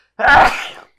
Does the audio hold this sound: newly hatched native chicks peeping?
no